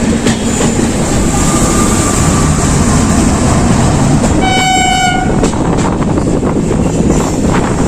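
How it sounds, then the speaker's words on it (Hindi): An Ajmer Janshatabdi Express runs on the main line near Delhi Cantt, its loud, continuous rumble and wheel clatter filling the whole stretch, with a long horn blast sounding midway. "और ट्रेन वापस आ गई है मेन लाइन पे।"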